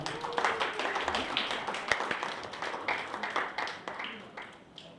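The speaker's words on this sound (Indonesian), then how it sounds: "Tempat kedua, beri tepukan untuk Kayla." A Christmas event audience applauding a second-place winner, scattered and uneven hand claps of moderate loudness with a few sharper nearby claps.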